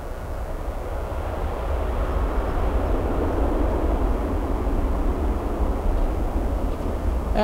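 An airliner landing on runway 9 at Miami International Airport, a loud, steady, low engine roar that fills the whole stretch without a break and swells slightly toward the middle.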